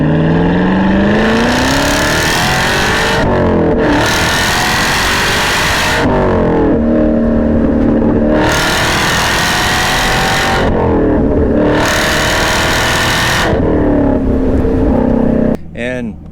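A 2023 Camaro ZL1 fitted with a new exhaust, revved hard in repeated bursts: loud, close engine roars rise and fall about four times in a steady rhythm, each run broken by a brief drop in revs.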